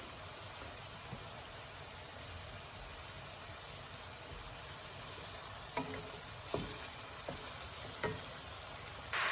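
Eggs fry in a pan with a steady, soft sizzle throughout, joined toward the end by a few light scraping or tapping knocks from stirring.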